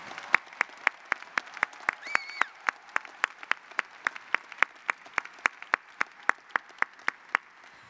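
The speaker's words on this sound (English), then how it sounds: "Let's give another round of applause for our graduates" A commencement crowd applauds the graduating class in a steady, evenly spaced rhythmic clap that runs throughout, with a brief faint tone partway through and no talk.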